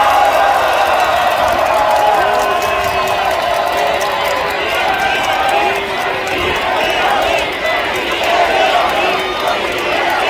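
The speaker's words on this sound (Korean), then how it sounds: "이재명 당대표님께 다시 한번 힘찬 박수 부탁드리겠습니다" A large crowd at an outdoor political rally cheering and clapping for party leader Lee Jae-myung, a loud continuous roar of voices and applause that holds steady throughout.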